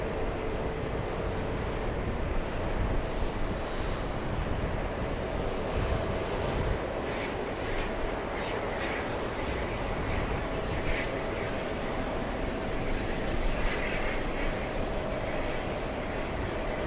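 An Air India airliner roars on the runway at JFK airport during takeoff, a broad, sustained engine rumble heard from a distance with slight swells, no talk.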